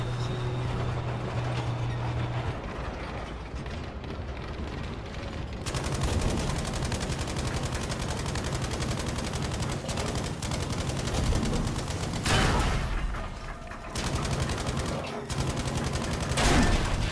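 Gunfire in the Battlefield V video game, with repeated bursts of automatic weapons and heavy shots, loud and continuous, plus sharp blasts near the end.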